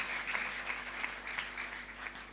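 A church congregation applauds a choir, with steady overlapping clapping that sounds moderately distant and fairly quiet, continuing without a break.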